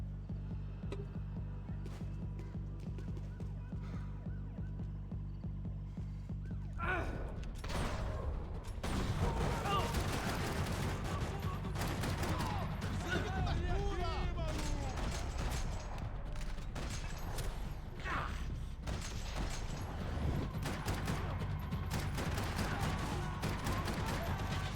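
Sustained bursts of gunfire in the Max Payne 3 video game, dense rapid shots and impacts running loud and continuous after a quieter opening with a low hum.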